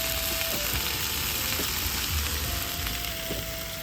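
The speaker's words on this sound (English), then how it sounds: "you can hear it sizzling" Sliced yam fries in hot oil in a pan with a dense, continuous crackling sizzle, close and fairly loud, with a faint tonal hum underneath.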